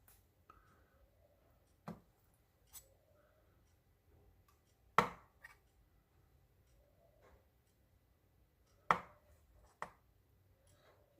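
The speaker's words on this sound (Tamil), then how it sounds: "ஒரு எக்கை நாம் 4ஆக கட் பண்ணிடலாம்" Knife cutting a boiled egg into four pieces, sparse sharp taps on a board at irregular intervals, close and quiet with near silence between cuts.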